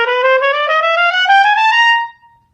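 A cornet plays a short rising run of sustained notes changed with the valves, bright and close, alone, ending after about two seconds.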